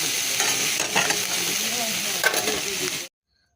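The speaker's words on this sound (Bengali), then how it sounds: "কুন্দুরি ভাজা বসানো হয়েও গেছে, অল্প একটু আর নাড়াচাড়া দিলেই হয়ে যাবে" Ivy gourd frying in a pan is stirred, giving a steady close sizzle with scraping stirs throughout, then cutting off abruptly near the end.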